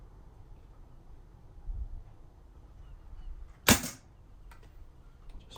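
A Daystate MK4 airgun fires a pellet with a single short, sharp, muted crack that stands out against a quiet, faintly noisy background, followed by a softer faint tick.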